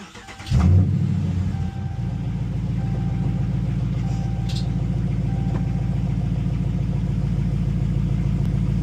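A Dodge Charger or Challenger RT V8 cranks and fires with a loud catch, then settles into a deep, steady, lumpy idle heard from inside the car, without talk.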